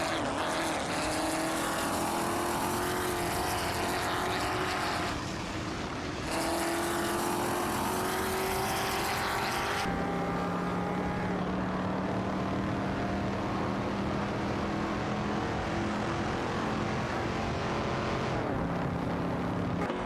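Ferrari 250 GTO race cars roar through a racing video game, several engines droning together at high revs with shifting pitch as they duel for position, loud and continuous with no talk.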